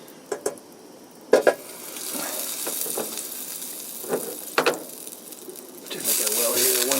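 A grilled cheese sandwich sizzles in a hot buttered pan, with a soft steady frying hiss punctuated by clanks of a spatula and pan during the flip, and a louder sizzle near the end; a voice is briefly heard.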